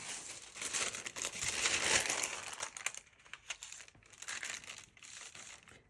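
Deli paper crinkles and rustles as it is handled and laid onto a gel plate loaded with paint, a close, soft burst of crumpling that settles into scattered lighter crackles.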